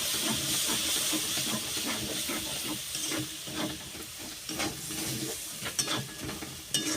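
Bihari-style chicken masala fries in a pan with chilli powder and a splash of water, a continuous steamy sizzle and hiss broken by repeated scraping stirs and occasional sharp clinks, close and without talk.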